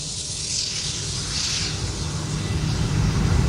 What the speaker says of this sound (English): The microphone doesn't like the Fokkers.